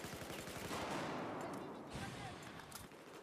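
Rapid gunfire in a shooting video game, a dense burst of automatic shots that fades after a couple of seconds, fairly loud and continuous with no talking over it.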